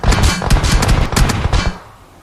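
Gunfire in the battle-royale game BGMI during an esports match: loud, close bursts of rapid automatic shots crackling for about two seconds, then cutting off into a short fading tail, with no voices over it.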